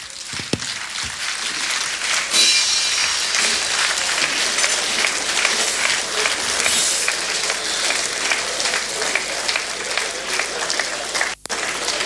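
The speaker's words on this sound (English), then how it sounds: "Another resounding applause for Professor Luck Otieno Lumumba." Resounding audience applause after a speech at a Nigerian event, a loud, sustained wash of many hands clapping that continues steadily throughout, with a brief dip near the end.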